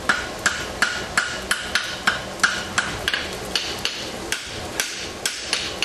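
A blacksmith forges 1/4-inch steel into tongs, striking with a hammer in a steady, evenly spaced series of sharp, ringing blows, close and loud with no voices.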